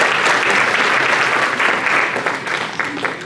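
An audience at a Diwali cultural program in Panama City, Florida, bursts into dense, loud, sustained applause, many hands clapping together in a steady roar that eases slightly toward the end.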